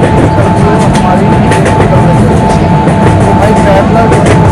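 Rajdhani Express running in Indian Train Simulator, a loud, steady rumble of rolling wheels and engine with faint rhythmic clatter, continuous throughout with a constant tone above it.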